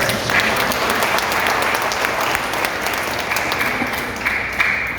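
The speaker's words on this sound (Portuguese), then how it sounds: "um aplauso ao Eterno" Congregation applause at a festive Easter church service, a dense, steady wash of clapping that fills the full five seconds at an even level without letting up.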